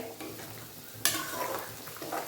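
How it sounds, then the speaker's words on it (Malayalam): A ladle mashes vegetables in a pot of sambar, giving soft scraping and stirring sounds with a sharper clatter midway, close and fairly quiet with no talk. "ഈ തവി ഇങ്ങനെ വെച്ചിട്ട് ഇങ്ങനെ ഒന്ന് ഉടച്ച് കൊടുക്കും വെജിറ്റബിൾസ് ഒക്കെ"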